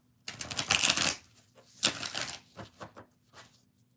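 Tarot cards riffled and shuffled by hand in a quick burst of crisp flutters, then a few lighter slaps and taps fading out, close and clear with no talk.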